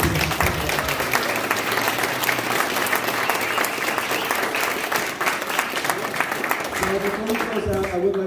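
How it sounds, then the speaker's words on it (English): A panel event audience breaks into sustained applause, steady and full throughout, with a few voices rising briefly near the end. "Let's give another round of applause to our amazing."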